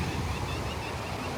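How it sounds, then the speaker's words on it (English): Rough ocean surf on a beach under a red flag warning, with wind blowing across the microphone; a continuous low roar of breaking waves, moderately loud and steady, with no voices. "It is beautiful today. The sun is really trying to come out, but it is a little bit of a rough surf."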